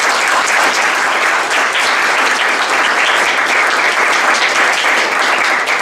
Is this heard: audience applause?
yes